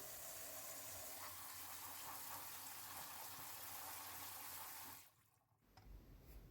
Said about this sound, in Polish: Uszaki dokładnie myjemy pod bieżącą wodą.